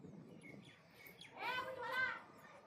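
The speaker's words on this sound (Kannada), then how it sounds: "ಇಲ್ಲೊಂದು ಗಿಳಿ ಐತಿ ನೋಡವ" A parrot chirps at Gol Gumbaz in Bijapur, giving a short burst of bright, warbling calls midway through, fairly close, over a murmur of people talking.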